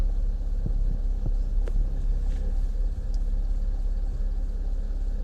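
A Citroen C6 engine idles after starting, a steady low rumbling hum with a few faint clicks and ticks over it and no one speaking.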